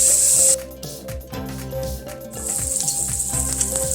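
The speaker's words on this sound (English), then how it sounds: "we're going to brown that salt pork, render the fat" Salt pork browning in a pan for beef stew, its fat rendering with a bright, hissing sizzle that bursts loudly at the start and returns steadily later, heard beneath background music.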